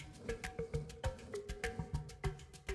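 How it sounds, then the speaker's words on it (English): A beard rubbed against a microphone, making close, faint scratchy bristling bursts in a steady rhythm of repeated strokes, with no talking. "do you want to hear what my beard sounds like when I rub it on my microphone?"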